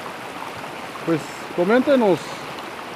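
Steady broadband rush of the Shanshan river flowing nearby, continuous and moderately loud beneath someone speaking a few short words.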